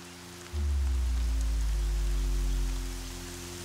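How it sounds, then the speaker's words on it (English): Steady rain in the video game Horizon Zero Dawn swells in suddenly as a loud, dense wash over a low rumble, holds, then eases slightly toward the end. "It's raining."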